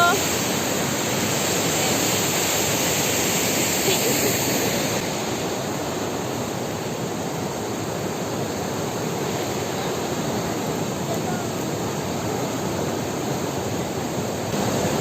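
A strongly flowing river near Sorata in Bolivia's Larecaja Province gives a loud, steady, unbroken rush of water throughout, heard close with no break.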